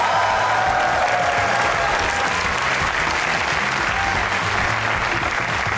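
A studio audience at a Pakistani TV comedy show claps in loud, sustained applause that stays dense and even from start to finish.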